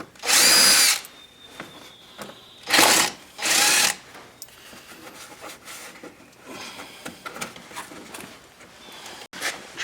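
A power drill with a bit driving out screws on a 2012 Walker Evans RZR 800, three loud close bursts of high whirring separated by pauses filled with faint handling rattles and clicks, no talk.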